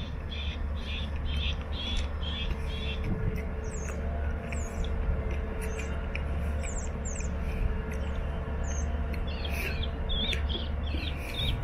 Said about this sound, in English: That's a natural gas well compressor back there.